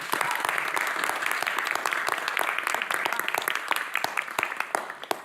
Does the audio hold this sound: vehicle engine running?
no